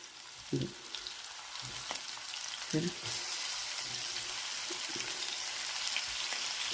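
Whole eggplants set one by one into hot oil, giving a continuous bright frying hiss with soft knocks and bumps as each piece goes in.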